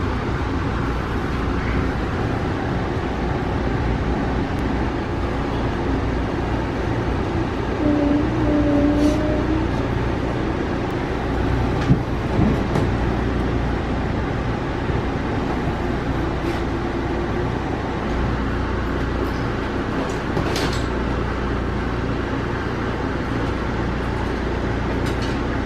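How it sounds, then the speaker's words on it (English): A freight train passing alongside an Amtrak Cardinal passenger train, heard from on board; a steady, moderately loud low rumble of rolling wheels and rail noise persists throughout, with no clear talking. "Freight train in."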